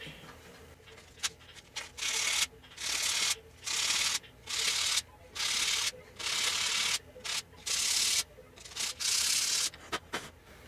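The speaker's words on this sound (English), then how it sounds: "I have 220 grit sandpaper is the finest that I have available." A rosewood sword handle is sanded by hand with 220 grit sandpaper, about eight rhythmic rasping strokes of roughly half a second each, close and crisp, separated by brief pauses.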